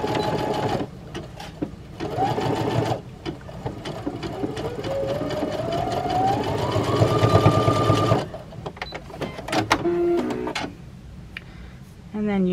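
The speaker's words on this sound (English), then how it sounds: "So now we're just going to, sew along the serged edge that I" Sewing machine stitching along a serged edge of a swimsuit, running in long steady bursts with brief pauses between, close and loud, while a person talks over it.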